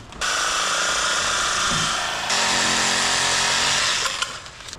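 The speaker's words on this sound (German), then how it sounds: "Das sägen wir am besten hier hinten in der Ecke." A power saw cuts through a pool corner piece, a loud steady whine held for several seconds that shifts pitch partway through and then stops.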